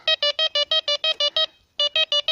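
A metal detector gives a rapid series of sharp electronic beeps, about nine in quick succession, a short pause, then four more, loud and close.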